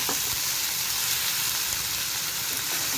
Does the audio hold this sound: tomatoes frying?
yes